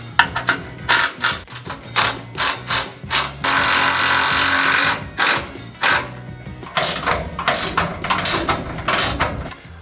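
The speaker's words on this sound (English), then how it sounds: "Now it's time to tighten all 6 bolts." Mechanical ratcheting and clicking while the six bolts of a James Duff heavy duty steel bumper tire carrier are tightened, in repeated short close bursts with a longer continuous stretch in the middle.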